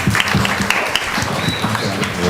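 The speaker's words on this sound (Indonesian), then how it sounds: "tepuk tangan lagi buat Hikmat" A school audience claps for a student at a language and culture week event, a brisk, dense round of applause in a hall with a voice talking over it.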